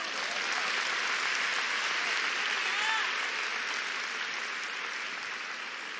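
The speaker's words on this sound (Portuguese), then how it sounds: "Pode aplaudir o Senhor." Congregation applauding in a church service, a broad, sustained roar of many hands clapping from a large crowd, steady and slowly fading, with faint voices mixed into the noise.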